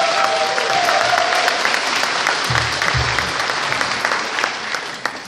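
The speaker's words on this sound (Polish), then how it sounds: "Wielkie brawa!" A crowd at a Wiosna party political convention in Białystok breaks into loud, sustained applause after a speaker is introduced, with a brief tonal whistle or squeal early on and a few heavier thumps midway.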